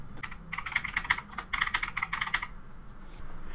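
Typing on a computer keyboard into the Windows 11 search box: a close, quick run of crisp key clicks in two bursts with a short pause, then a few faint taps, no talking.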